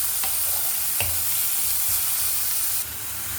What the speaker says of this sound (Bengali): তাড়াতাড়ি ফ্রাই হয়ে যাবে।